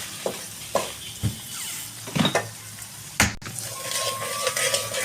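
Masala fries in a pan on a stove over low heat, sizzling softly in the background while a spoon stirs and scrapes the pan in several sharp bursts, with a clink of cookware near the end.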